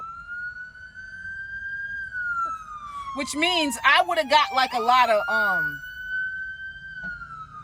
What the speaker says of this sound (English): why do you have your sirens on if you're gonna drive that slow?